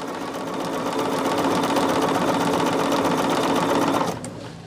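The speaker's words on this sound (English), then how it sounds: "I know I am doing the chain stitching here for this is row number 5" Sewing machine running steadily as quilt rows are chain stitched, a continuous fast mechanical whir with regular needle rhythm, close and loud, slowing and stopping near the end.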